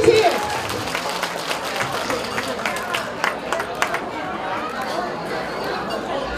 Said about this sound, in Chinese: 再一次的掌声送给我们的主席